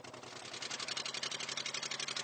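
A boat engine runs steadily at sea moments before it dies, its pulsing throb loud and close with a fast, even rhythm and no voices over it.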